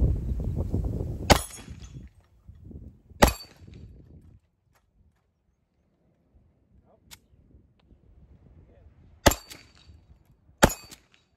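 A SIG pistol is test-fired at an outdoor range, a handful of sharp, loud single shots spaced several seconds apart, each with a short ringing echo, over quiet background.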